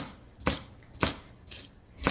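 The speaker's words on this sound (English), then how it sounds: "So I'm just chopping these." A knife chops vegetables into rounds on a cutting board, giving four sharp, evenly spaced chops, close and clear with no talking.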